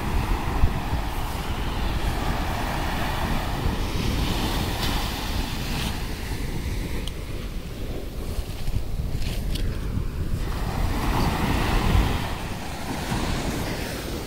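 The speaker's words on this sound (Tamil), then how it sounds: "ரொம்ப பெரிய பெரிய அலைலாம் வரும்" Sea waves wash onto the beach at Gopalpur, Odisha, at night, a steady broadband roar of surf with wind noise over the microphone, continuous and fairly loud without any voices.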